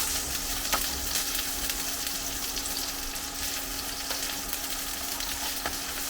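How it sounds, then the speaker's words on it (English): Steady, loud sizzling of onions frying in a hot wok, a continuous crackle with occasional sharper pops and no voices. "Straight away you can hear some cooking. So in with the onions."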